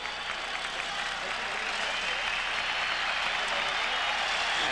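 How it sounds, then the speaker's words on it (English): A baseball crowd at a 1996 Mets–Padres game roars steadily in approval as a pitcher leaves, a dense, sustained wash of cheering and applause with no break. "as the crowd starts to roar its approval"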